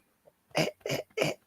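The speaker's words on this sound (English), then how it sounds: "That's definitely a weed cough." A person coughing from smoking weed lets out three loud, harsh coughs in quick succession, close and with no talking, after a faint small sound just before.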